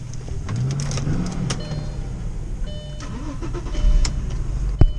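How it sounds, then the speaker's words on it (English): The engine of a Nissan Pathfinder S Sport with an automatic transmission cranks and catches, heard close from inside the cabin. A brief mechanical whir comes first, then the engine settles into an idle with small clicks. "She fires right up though."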